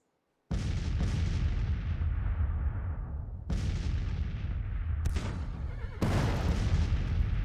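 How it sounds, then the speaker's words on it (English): Artillery fire in the Civil War strategy game Grand Tactician, summer 1861: deep booming cannon shots at intervals, each with a long rolling decay, and later blasts overlapping more closely. "I really don't want to advance out, but let the artillery do its work."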